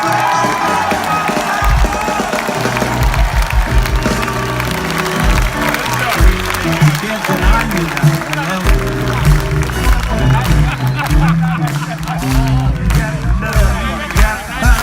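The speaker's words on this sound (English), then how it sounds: "I get to say his name again for you guys to cheer" A concert crowd at an outdoor show at Sofiero Castle cheers for the guitarist, loud and sustained for about fifteen seconds, with band sounds mixed into the roar.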